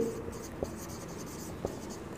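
Writing on a board during a biology lesson on ABO blood group incompatibility: a steady, scratchy stroke sound running for about two seconds with a couple of brief taps, close and moderately quiet.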